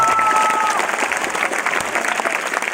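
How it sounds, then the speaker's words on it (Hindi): An audience at an anniversary event applauds loudly for themselves, a dense, steady wash of many hands clapping close by for the whole stretch. "एक बार आपके खुद के लिए जोरदार ताली होना चाहिए।"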